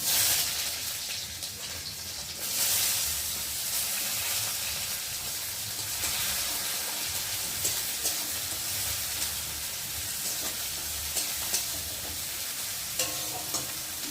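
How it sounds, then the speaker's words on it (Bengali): Chopped onions frying in oil with toasted cumin for a potato dish, a loud continuous sizzle with hiss and steam and occasional stirring clicks, steady and close with no voices. "এখন এই যে কুচিয়ে রাখা পেঁয়াজগুলোকে দিয়ে একটু ভালো করে ভেজে নেব"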